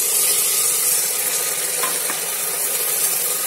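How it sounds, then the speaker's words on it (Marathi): An onion sautéing over a low flame for ghee rice, giving a loud, even, continuous sizzle from start to finish with no voices. "कांदा कमी फ्लेमवरती परतायचा म्हणजे त्याचा चांगला कच्चेपणा शिजून जातो"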